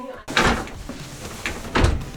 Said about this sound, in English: So now let's just put the drawers in